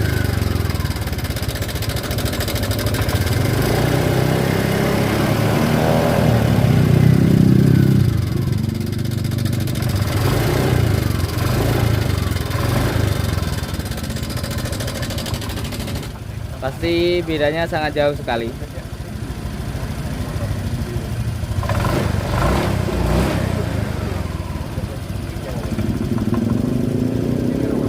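A Honda Vario 125 scooter engine idles smoothly after repair of a rough-running fault, a steady low mechanical hum heard close up beneath someone talking, with a brief higher whine midway.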